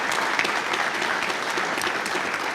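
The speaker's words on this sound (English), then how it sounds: "Let's just give Deb a quick round of applause and thank her." A quick round of applause from the audience at an annual meeting, dense and steady throughout with no voices over it.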